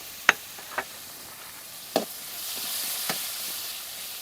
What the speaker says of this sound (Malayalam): ഞാൻ 3 വലിയ ഉള്ളി ചെറുതായിട്ട് അരിഞ്ഞത് ഇട്ട് കൊടുക്കുകയാണ്.